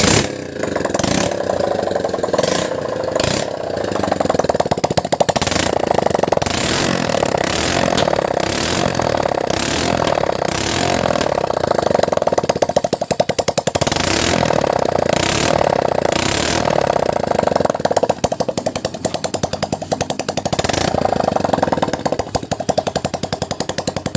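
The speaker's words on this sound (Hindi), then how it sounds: "और बाइक को स्टार्ट करेंगे।" A motorcycle engine starts and keeps running with a loud, rough, rapid chatter close by, its rhythm surging and steadying throughout.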